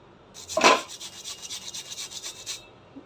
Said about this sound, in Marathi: एक बटाटा घेऊन किसून घ्यायचं आहे